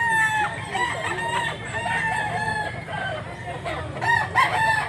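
A young stag rooster crows loudly and nearby at a rural spot in Mantalungon, Cebu, its calls rising and repeating over other clucking fowl and background farm noise.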